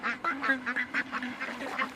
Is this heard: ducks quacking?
yes